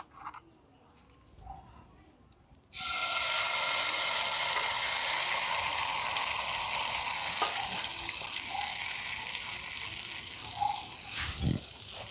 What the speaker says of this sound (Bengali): এখান থেকে অল্প ব্যাটার নিয়ে এই ফ্রাইং প্যানের মধ্যে দিয়ে দেব